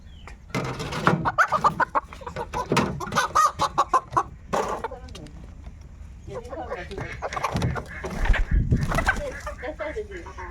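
Chickens cluck and squawk in bursts close by as they are let out, with people talking over them and some rustling and footsteps around.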